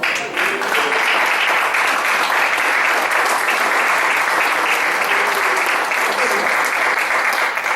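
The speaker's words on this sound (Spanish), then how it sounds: "Denle un aplauso a Jesús" Steady, loud congregation applause fills a church service for nearly eight seconds, dense clapping with a few voices mixed in.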